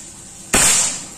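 A lone PCP air rifle shot from a Predator Monel Ataman folding rifle with a 30 cm barrel at 3500 psi fires close by with a sharp crack and brief airy tail, then the quiet surroundings return.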